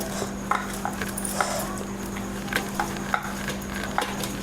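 Crushed green chili paste being stirred into a mashed bhaji filling in a bowl, giving soft, irregular wet squelches and scrapes at close range, with a steady hum underneath.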